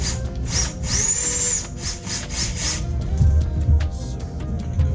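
A power drill with a 3.5 or 4.5 millimeter bit whirs in short, rhythmic bursts while drilling a Defender dash console, its motor pitch rising and holding, over a low grinding rumble of the bit biting into material.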